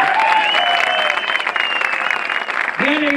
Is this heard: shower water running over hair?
no